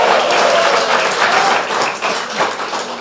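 A church congregation bursts into loud, sustained applause mixed with cheering, filling a packed worship space for a few seconds without a break.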